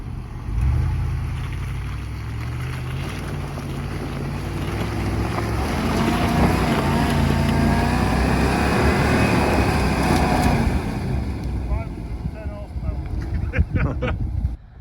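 A Land Rover Defender 110 drives off-road in second gear low range with stability control off. Its engine rumbles loud and close, with heavy wind buffeting throughout.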